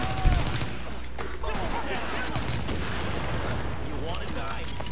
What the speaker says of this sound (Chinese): 谁先开枪